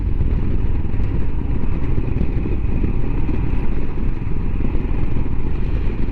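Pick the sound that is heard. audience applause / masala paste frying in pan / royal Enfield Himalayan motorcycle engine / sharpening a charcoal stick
royal Enfield Himalayan motorcycle engine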